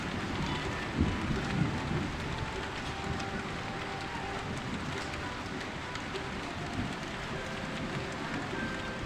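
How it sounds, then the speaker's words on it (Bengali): Steady rain falls outside on a Bengali New Year day, a continuous, even hiss of drops at moderate level with no voices. "বাইরে এখন বৃষ্টি হইতেছে"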